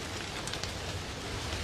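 Steady rain falls outside a garage in an audio drama, a dense even hiss of drops with no speech over it.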